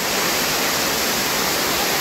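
Heavy, continuous roar of a waterfall in monsoon rain near Matheran, a dense, steady wash of falling water filling the whole moment with no voices.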